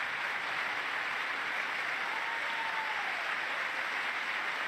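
Sustained, dense applause from an audience at a joint session of Congress fills the whole stretch, steady and loud with no clear voices on top.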